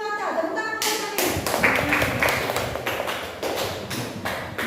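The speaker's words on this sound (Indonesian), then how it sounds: "Tepuk tangan buat kalian." Students in a classroom break into clapping after a teacher's voice: a quick, uneven burst of close hand claps that carries on for several seconds.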